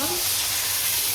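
A pot of green jackfruit curry with shrimp comes to a boil on a village stove, giving a brief steady hiss and sizzle with a low rumbling undertone.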